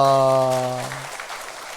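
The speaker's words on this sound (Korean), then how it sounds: "우리 성가대 박수 한번 하겠습니다." A church congregation applauds its choir: a held sung or organ note dies away, then a soft, dense patter of clapping from many hands fills the room at a moderate distance.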